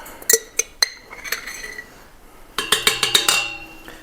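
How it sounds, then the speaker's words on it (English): A metal spoon clinks and scrapes against a glass jar of garlic in a home kitchen, with a few scattered taps followed by a quick run of bright, ringing clinks, close and clear without speech. "So I'm going to add about a tablespoon of garlic. See what I have left in this jar here."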